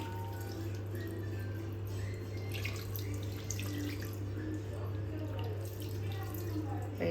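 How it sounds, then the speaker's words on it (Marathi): Water is poured over a scrubbed gas stove during cleaning, a steady splashing trickle running throughout at moderate distance, with a constant low mechanical hum underneath and no talk. "तर मी आता हे पाणी घालते"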